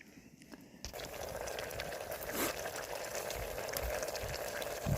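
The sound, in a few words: water bubbling in a pot over a campfire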